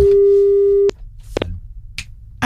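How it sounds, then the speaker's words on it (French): A telephone line tone sounds steadily, then cuts off and is followed by a few short clicks and electronic beeps. "Il est en ligne avec Pamela."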